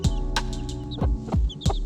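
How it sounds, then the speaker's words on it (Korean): Two hens clucking as they approach a group of chicks in a yard, several short low clucks spaced irregularly, close by, with faint higher chirps from the chicks between them. "지나가던 암탉 두 마리가 병아리들을 보고 다가왔다"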